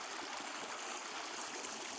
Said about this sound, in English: So this is very nice and clear water.